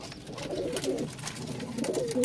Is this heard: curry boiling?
no